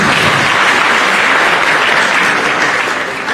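Loud, dense applause fills a hall at an anniversary conference and career fair, a thick sustained roar of many clapping hands that stays even before easing slightly at the end.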